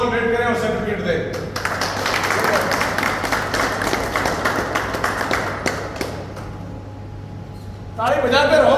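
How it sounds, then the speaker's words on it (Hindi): An audience at a village honouring ceremony breaks into sustained, dense clapping that lasts several seconds, with a voice speaking briefly before and after the applause. "ताली बजाते रहो"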